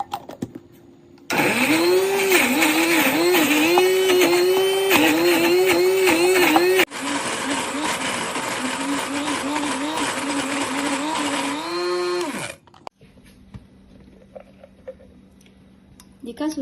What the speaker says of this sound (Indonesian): Kita akan blender ya, tanpa air.